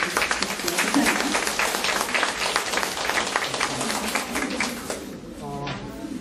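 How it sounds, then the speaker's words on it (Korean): A lecture audience greets a professor arriving for a happiness talk with a burst of dense, loud applause that holds steady for several seconds, then thins and fades as a voice speaks over the end. "큰 박수로 맞이해 주십시오."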